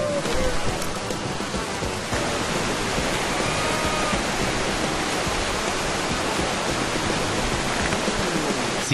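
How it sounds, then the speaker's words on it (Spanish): Rushing river rapids on the Río Negro in Colombia during a rafting run, a loud, steady broadband roar of churning whitewater that fills the whole stretch with no break. "¡Vamos a practicar rafting en el Río Negro de Colombia!"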